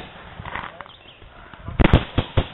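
Paintball markers firing outdoors during a capture-the-flag game, a quick cluster of sharp pops near the end, following quieter rustling and faint voices.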